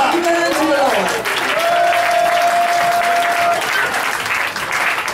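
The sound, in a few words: congregation cheering and applauding to acclaim the Lord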